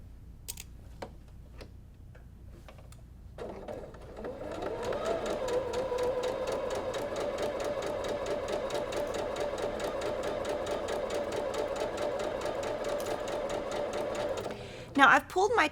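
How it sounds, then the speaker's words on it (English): A sewing machine stitches a quarter-inch quilt seam steadily for about ten seconds, a fast even mechanical whirring and ticking, preceded by a few faint clicks and handling sounds. "we're going to go back to our sewing machine and we're going to stitch all the way down"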